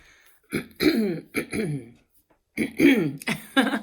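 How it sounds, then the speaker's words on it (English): Someone close by clears their throat in several rough, gravelly bursts, with a brief pause before another round. "if I don't clear my throat"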